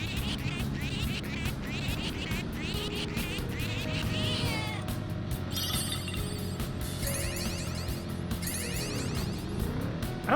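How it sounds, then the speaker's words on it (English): A cat yowling and caterwauling inside the video game Persona 5 Royal, drawn-out wavering meows over game music and background effects, fairly loud and continuous with no talking. "You've never heard a cat go yow?"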